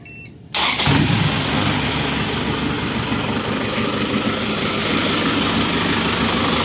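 An Isuzu Panther turbo diesel engine starts with a brief crank and then idles steadily, a loud, close, continuous rumble that stays even throughout, with no talking over it.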